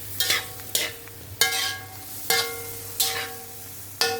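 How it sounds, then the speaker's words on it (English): Vegetable chop suey is stirred in a pan, six sharp scraping strokes landing at a steady, unhurried rhythm, each with a short bright clatter over a quiet sizzle, close and with no voices. "We need again stir, mix the vegetable thoroughly."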